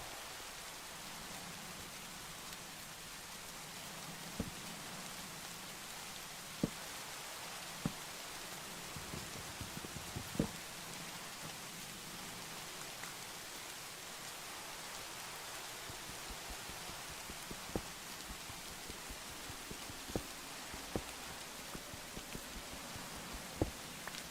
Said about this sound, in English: I am getting absolutely rained on right now.